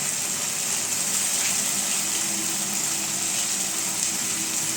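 Soaked cashew and fennel paste goes into hot oil for doi katla, raising a steady, even hissing sizzle close by that holds unchanged throughout with no speech.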